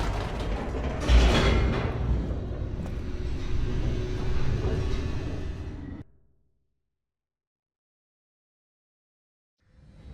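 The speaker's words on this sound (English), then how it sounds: "The elevator raced downward, plummeting towards an unknown fate." An elevator plunges downward in The Stanley Parable video game, a steady loud mechanical rumble with creaks lasting about six seconds, then cutting abruptly to silence before a faint rumble returns at the end.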